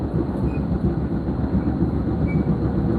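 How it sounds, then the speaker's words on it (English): Steady, loud rumble of a moving passenger train bound for Penn Station, heard from inside the car, with continuous low wheel and track noise throughout and no talk. "This is the train to Penn Station."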